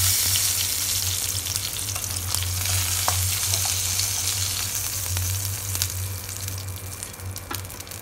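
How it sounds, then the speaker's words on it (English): Marinated fish fries in hot oil with a loud, steady, dense sizzle that fills the whole stretch, close up, with faint pops and crackles scattered through and no voice over it. "we are going to fry the marinated fish. Now let them fry for a while."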